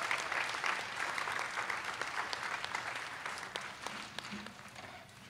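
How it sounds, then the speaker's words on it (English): Audience applause at the Waterloo Municipal Band summer concert, a broad sustained clapping from a sizable crowd that keeps going steadily before slowly tapering off, with a faint voice underneath near the end. "Keep that applause going."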